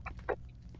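Brief clucks from a chicken in a video game, two short calls close together, faint against a low background hum.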